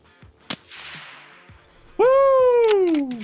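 One sharp, distant-sounding gunshot cracks out in Escape from Tarkov, trailing into a fading echo, followed by a loud, rising whooping voice.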